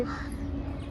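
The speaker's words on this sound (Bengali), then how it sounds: "কাক ডাকছে পাখি ডাকছে" Crows cawing from a banyan tree near the Lotus Temple in Delhi, a steady outdoor wash of calls over a low background rumble for the whole brief moment.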